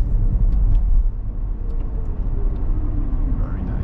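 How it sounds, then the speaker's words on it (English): Car in a driving test of an eBrake to Zero motion management function, braking to a stop: a steady loud low rumble of the vehicle interior and road noise, with faint speech underneath. "So please go ahead and just use the braking pedal."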